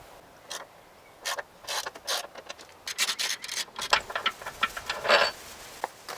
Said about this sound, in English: Next step is to loosen this front motor mount.